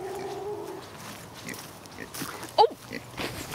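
A pig gives a short oink-like grunt that cuts in briefly amid outdoor chatter and scattered background noise, close by.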